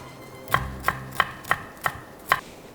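A knife slices thinly through bell pepper on a cutting board, six crisp, evenly spaced chops close up in a quiet kitchen.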